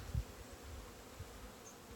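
Honey bees at Hive #5 on a ranch hum in a low, steady buzz during a hive inspection and feeding, with one louder pass close by.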